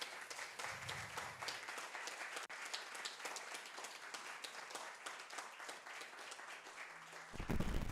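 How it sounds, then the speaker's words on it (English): An audience at a political discussion event applauds its speakers, sustained crowd clapping that runs continuously before a brief low thump and a rising swell at the very end. "Can we get a big round of applause for our comrade speakers?"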